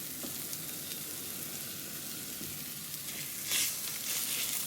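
Tomato paste and rice filling for dolmades being stirred in a pan over a low, constant sizzle, with a couple of brief scraping stirs near the end, fairly quiet and close.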